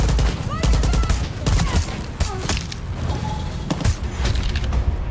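Rapid bursts of SMG gunfire in a first-person shooter video game, loud and dense, mixed with in-game clatter, impacts and effects throughout.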